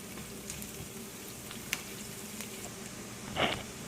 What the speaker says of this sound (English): So just let the onions cook for like 30 seconds.